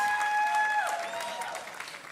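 Applause from a live studio audience after a singer's performance at a Swiss Eurovision 2018 selection show, steady and moderately loud under a fading sustained musical tone.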